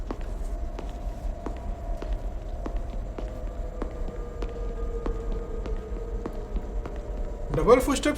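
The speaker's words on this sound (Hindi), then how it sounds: "डबल फुटस्टेप सुनाई दे रहे ना" Two sets of footsteps in a suspenseful comedy web series scene sound as regular, evenly spaced light thumps over a low background hum, ending in a brief rising noise.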